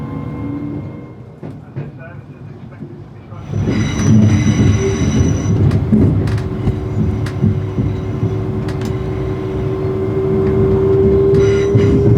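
A train rolls in with steady rumbling and a long metallic wheel squeal building toward the end, with some background chatter on the platform.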